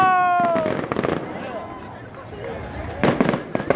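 Fireworks burst at the 2019 Pioneer Days celebration in Deerfield Beach, a string of sharp crackling pops and booms in an outdoor crowd, with people talking and exclaiming throughout.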